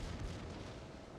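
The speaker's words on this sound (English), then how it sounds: "Get into close range, so my secondaries start opening up." Secondary guns on the battleship Arkansas fire in World of Warships, a dense, booming roll of artillery at close range that fills the short moment with heavy rumbling blasts.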